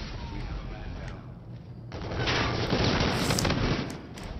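Close-range gunfire from a Call of Duty gun, rapid overlapping shots building into a loud dense burst in the second half, with game noise around it.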